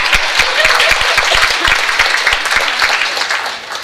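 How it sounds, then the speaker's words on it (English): An audience at a chamber of commerce awards gala claps near and loud, sharp individual hand claps standing out from the dense applause before it gradually tapers off. "you can go ahead and clap"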